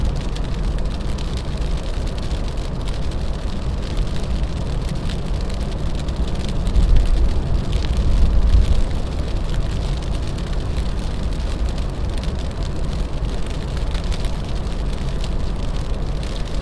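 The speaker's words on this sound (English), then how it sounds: "It is big old chunks of sleet coming down now." Big chunks of sleet fall in a winter storm in New York, a dense steady hiss and patter of pellets hitting surfaces. A low rumble swells briefly near the middle, and no one speaks.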